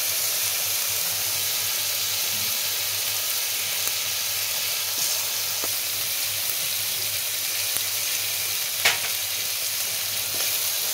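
Ground cumin-coriander spice paste fries in a pan, producing a loud, even hissing sizzle with a low hum beneath and a few light stirring clinks, without talking.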